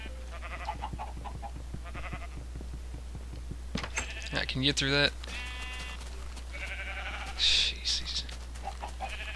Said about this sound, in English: gosh, these sheep, they suck